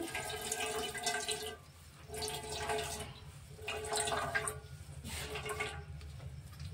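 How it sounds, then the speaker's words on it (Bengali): Coconut milk being squeezed out of grated coconut for a Bengali daab chingri (prawns in green coconut) dish: close, wet splashing and dripping of liquid in three or four rhythmic bursts with short pauses, no voices. "নারকেলের দুধটা বার করে নিচ্ছি"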